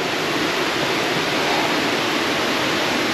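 Rushing water of the Nagysh river pouring over a rock fall near the village of Tkhagabsh, a steady, loud, broadband roar that runs unbroken and close by with no voices.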